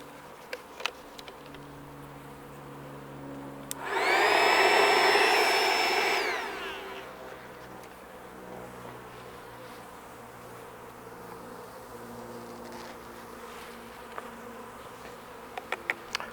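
Angry honey bees at a backyard urban hive swell into a loud, dense buzzing burst for a couple of seconds, then settle back to a faint steady hum with scattered small knocks and no talk.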